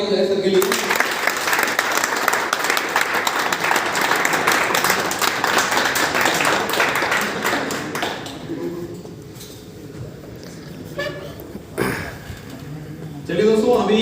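An audience at a live training session breaks into a burst of strong applause for an honoured guest, dense clapping for several seconds that then thins and fades, with a short flare of claps near the end.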